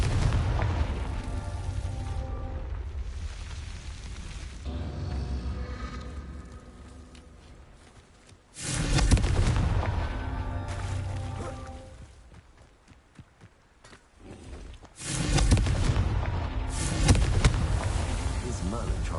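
Explosive blasts from the Confringo fire spell in the video game Hogwarts Legacy on PS5, two loud booming bursts with rumbling tails, separated by quieter game ambience and a speaking voice.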